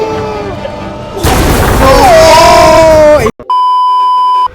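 A sudden loud boom bursts out in Roblox multicrew tank combat, followed by a rumbling roar with falling tones and then a steady electronic beep tone, all heard near and loud.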